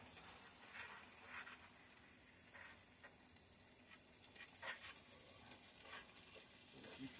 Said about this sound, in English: I can hear it sizzling and cooking away